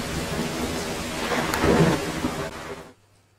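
Thunder rumbling through a dark forest in the Big Foot horror video game, a broad rolling crash with rain-like hiss that swells to a heavy peak, then cuts off abruptly into near silence.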